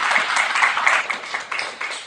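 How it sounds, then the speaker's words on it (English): An audience at a talk on the shorter work week gives a steady round of applause, a dense wash of clapping from many hands lasting a couple of seconds. "a big round of applause for Danielle."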